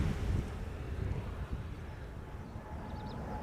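Wind gusting across an open airport field, buffeting the microphone with a steady low rumble and roar, quiet overall with a faint thump partway through.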